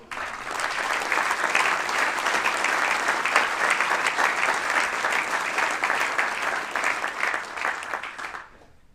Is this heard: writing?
no